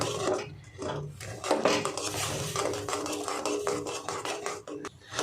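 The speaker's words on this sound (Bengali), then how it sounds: "দেখুন এইভাবে নাড়তে হবে, নাড়তে নাড়তে পুরোটাই গলে যাবে।" A spoon stirs mango kheer made with gobindobhog rice in a pot as the sugar melts, giving irregular scraping and clinking of utensil against metal over a steady background of kitchen noise.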